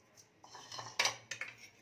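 Metal cutlery scrapes and clinks against a bowl while egg is mixed with pepper powder, chaat masala and salt for an egg roll, a short run of close, irregular clatters with a sharper clink near the middle.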